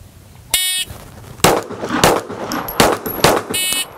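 At a pistol qualification drill, a shot timer's electronic beep sounds, followed by four sharp, close pistol shots fired at two targets in quick pairs; another beep tone sounds near the end.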